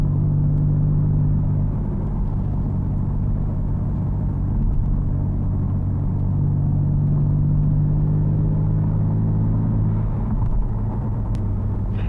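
BMW M3 engine while driving, a loud, steady low rumble from inside the cabin with a sustained droning tone that rises slightly mid-way, continuous throughout and without speech.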